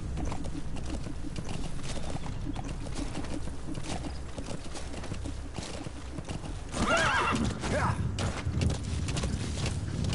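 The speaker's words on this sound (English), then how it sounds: "Come on, it's just a horse." A horse in the video game Metal Gear Solid 5: The Phantom Pain gives a clear whinny midway through over a continuous clip-clop of hooves, with game ambience underneath.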